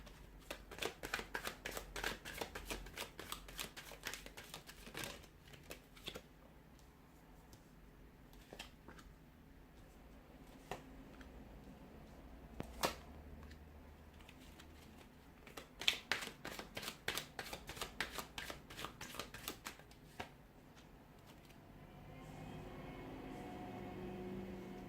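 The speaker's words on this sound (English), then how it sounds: "we'll give the cards a shuffle here" Tarot cards riffled and shuffled in repeated bursts of crisp, rapid clicking with short pauses between, close and fairly quiet, with no talking.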